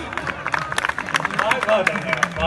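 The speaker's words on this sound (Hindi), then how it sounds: "जोरदार ताली बजाएं प्लीज" Audience at a Hindi poetry recital breaking into brief, scattered clapping, a quick burst of claps amid crowd murmur.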